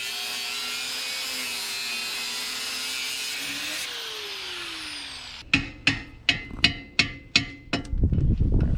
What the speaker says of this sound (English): So I took my little Dremel and I just smoothed that out a little bit